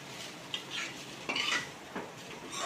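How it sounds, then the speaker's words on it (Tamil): Egg and rice being stirred in a pan with a metal utensil, with scraping and light clinking strokes against the pan, faint and close, with no voices. "அந்த எக்கும் ரைஸும் நல்லா ஒன்றா மிக்ஸ் ஆகிற வரைக்கும் சாத்தே பண்ணிக்கிட்டே இருக்கணும்"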